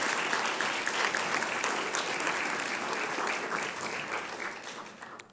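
A room of guests at a National Press Club event gives a sustained round of applause. The clapping is dense and even throughout and eases slightly at the end.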